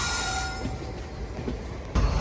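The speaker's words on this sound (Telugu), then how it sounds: "నాకు తెలిసి ఏదో ట్రైన్ని తీసుకెళ్తుంది అనమాట." A train rolling slowly into the shunting area outside Tirunelveli Junction, a continuous close rumble of wheels and carriages with a faint squeal and a sharp clank near the end.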